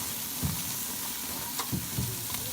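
Peruvian-style pork ribs frying and being stirred over a camp grill, a steady sizzle with a few soft scraping stirs and clunks standing out close by.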